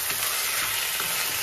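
Tomatoes frying in a pan for egg tomato curry, a steady, close, continuous sizzle with faint stirring scrapes, no talk.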